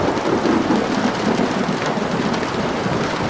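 Steady, loud rain pours down at night with a dense, unbroken hiss and low rumbling that suggests thunder in the background, with no voices.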